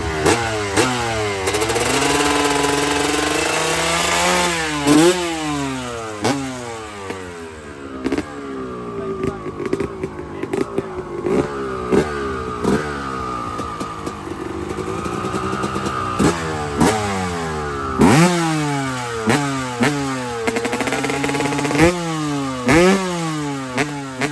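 A Yamaha RD two-stroke motorcycle revs loudly and close by at a two-stroke gathering. The engine pitch rises and falls again and again in quick blips, with a brief steadier stretch in the middle.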